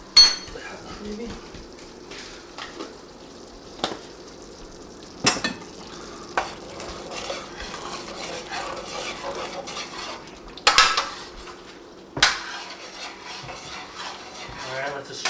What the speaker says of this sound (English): Let this sugar cook for a minute.